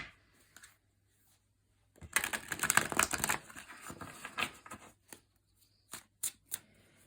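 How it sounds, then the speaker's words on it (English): A deck of tarot cards is shuffled by hand at close range: a quiet opening gives way to a burst of riffling and rapid card flicks, then a few scattered taps and slaps, with no talking. "Give another good shuffle here."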